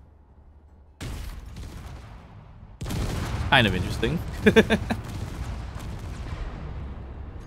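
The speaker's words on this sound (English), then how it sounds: "Makes a bit of a laggy explosion, but not a big old chain explosion." Small hydrogen tanks explode in the Space Engineers video game: a sudden onset of loud, crackling, rumbling blasts builds with several sharp pops and then rolls on, while someone talks over it.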